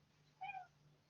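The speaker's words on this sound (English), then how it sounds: "oh, sorry, I've got my cat here." A pet cat lets out one short, soft meow close by in a quiet indoor room over a low steady hum.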